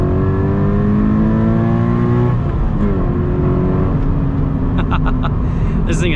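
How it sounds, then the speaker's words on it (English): Subaru BRZ engine pulling at full throttle on a winding mountain road near Melbourne, a loud continuous rising drone with a gear shift midway, heard from inside the car. "Full throttle ahead."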